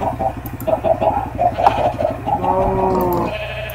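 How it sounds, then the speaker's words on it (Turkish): Lamb and sheep bleats from a Minecraft mob head mod, a run of short repeated nasal cries in quick succession, loud and close, with a longer sustained bleat near the end. "Bu da kuzu sesi, koyun sesi falan filan."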